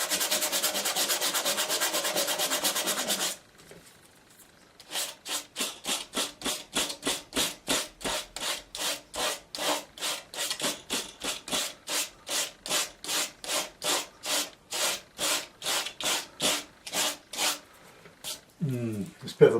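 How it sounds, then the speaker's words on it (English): Repeated back-and-forth strokes of very coarse belt-sanding paper rasping on a surface by hand, rhythmic and close, after a brief continuous scrubbing and a pause. "Now I can lift that out with a bit of this very coarse sandpaper, belt sanding paper"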